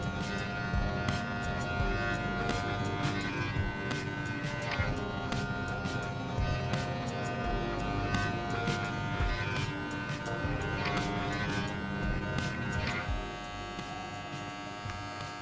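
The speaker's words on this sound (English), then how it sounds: "I'm gonna open the clipper up." An electric hair clipper buzzes continuously and close while trimming a beard at a barbershop, a steady high whine that holds with small shifts in pitch as it moves through the hair.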